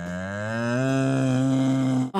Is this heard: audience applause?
no